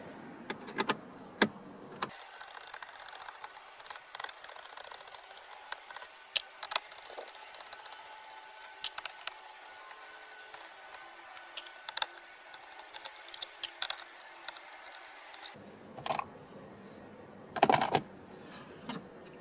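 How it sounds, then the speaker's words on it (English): Screws being removed around the 4-inch dash screen of a 2013-2016 Ford Fusion, with a whirring driver, small clicks and ticks of plastic and metal, and short sharp taps scattered irregularly throughout. "we need to remove the screws that hold in the existing 4-inch screen and remove the screws for the audio"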